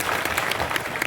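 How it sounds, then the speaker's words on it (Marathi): A crowd at a public gathering breaks into brief, dense clapping, a short burst of applause from many hands. "एकदा कट्टे साहेबांसाठी जोरदार टाळ्या वाजवा."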